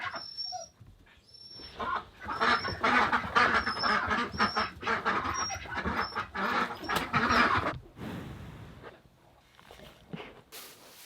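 A chorus of ducks quacking nearby, dense and overlapping for several seconds, then thinning out into quieter background calls.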